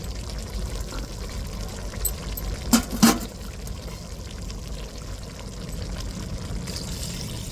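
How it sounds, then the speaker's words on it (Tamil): Ground coconut mixed with water poured into a pot of chicken curry, a steady wet pouring wash with a couple of brief clinks midway, alone without talk. "தண்ணியில் அரைச்ச தேங்காவை சேர்த்துருவோம்"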